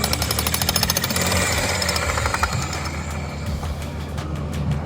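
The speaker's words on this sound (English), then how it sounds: "It's a huge jackhammer they're using." A huge jackhammer, held sideways, breaking ground at a resort construction site in Loreto, Mexico, pounding in rapid, loud bursts over a rumbling engine, then easing off briefly before resuming.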